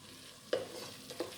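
Onions frying and being stirred in a pan for keema aloo matar, a soft sizzle with two brief utensil clinks against the pan, close and fairly quiet, no voices.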